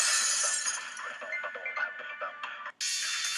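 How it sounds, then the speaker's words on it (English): A vase shatters in a Danganronpa 2 game sound effect: a bright crash followed by scattered tinkling shards that fade out over a couple of seconds, then a sudden cut to another loud bright burst. "If it wasn't the window, then what broke to make that sound? A vase."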